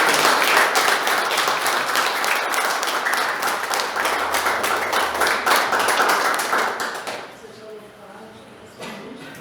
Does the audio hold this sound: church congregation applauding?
yes